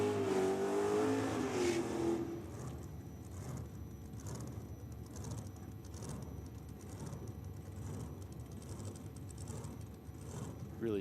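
A no-prep drag racing car on big tyres launches down the strip, opening with a loud high engine wail that settles into a sustained roar, sounding fairly distant with crowd and track ambience.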